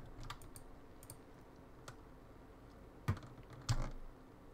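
Computer keyboard keys pressed to roll and pitch an aircraft while flying in War Thunder, a few scattered soft clicks and two sharper taps near the end over a low steady background hum.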